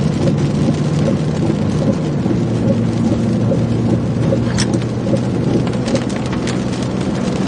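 Heavy rain drums steadily on a moving car, a loud, dense, unbroken roar with road and engine rumble underneath, continuous and close.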